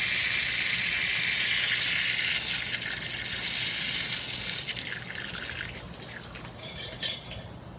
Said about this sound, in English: me making sure this faucet works and also flushing it out